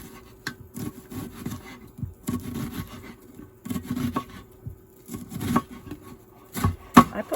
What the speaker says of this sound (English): I'm just gonna chop up some red onion here.